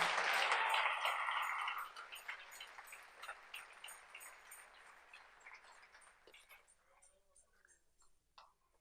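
Congregation applause during a church service, loud dense clapping at the start that thins into scattered claps and fades out over several seconds, no talking over it.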